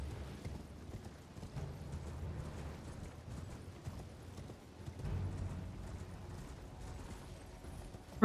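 A horse gallops in Elden Ring, its rhythmic clip-clop hoofbeats running steadily throughout at moderate loudness, layered over a low rumbling game soundscape.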